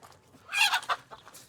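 Chickens cluck in a short burst of throaty calls, close and moderately loud, on a farm in Arizona with no talking.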